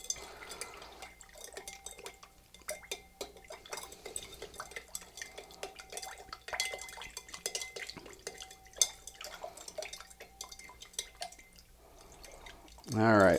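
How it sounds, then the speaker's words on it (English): Sugar and water being stirred in a bowl for Philadelphia Fish House Punch, with faint scraping, small clinks and drips scattered throughout, and a louder rush of sound at the very end. "So now we're just going to stir for just, you know, it doesn't take long because we've got quite a bit of water in there."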